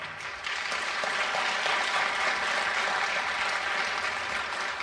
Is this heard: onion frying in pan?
no